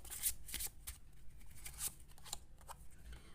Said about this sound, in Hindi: टाइम प्रिडिक्शन कार्ड से मैं आपके लिए एक कार्ड निकालूंगी।